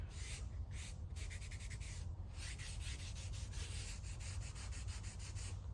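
Sandpaper rubs back a purple finish on a Stew Mac Les Paul-style guitar build, a close, quiet run of rapid rhythmic back-and-forth strokes.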